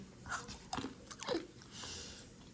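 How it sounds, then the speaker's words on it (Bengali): Peanuts being chewed during cooking, a few close, quiet crunching bites followed by softer chewing, with no talk. "রান্না করতেছি আর ফাঁকে ফাঁকে বাদাম খাচ্ছি"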